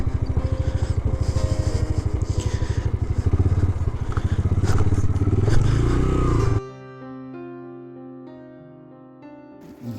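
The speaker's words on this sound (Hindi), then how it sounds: "बाइक यहाँ हो गई हैं पार्क।" A motorcycle rides near the mic on a rough track in Pakistan's Yasin valley. Its engine chugs in rapid, steady pulses and rises slightly, then cuts out suddenly as it is parked, leaving only faint background sound.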